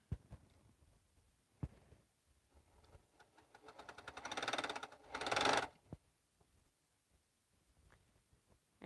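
A sewing machine stitching small fabric squares runs in a quiet room, its rapid mechanical clatter building into a short burst with a few isolated clanks and clicks before and after.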